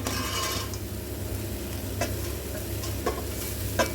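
Cooled rice is stirred into vegetables frying in a pan for veg fried rice: a steady sizzle runs throughout, with a few soft scrapes and clinks of the spoon against the pan.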